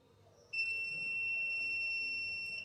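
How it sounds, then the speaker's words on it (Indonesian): A timer alarm on a screen printing heat machine sounds as a steady, continuous electronic tone that starts abruptly and holds unbroken, moderately loud over faint room noise. "alarmnya menjerit sesuai durasinya"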